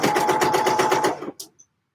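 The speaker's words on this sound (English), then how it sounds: "let's see how long this has taken me to sew this round" Sewing machine stitching an Eve dress, a loud, close, rapid rhythmic whirr running steadily for over a second before stopping, followed by a couple of small clicks.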